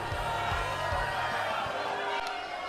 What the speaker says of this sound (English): they are a raucous crowd in here tonight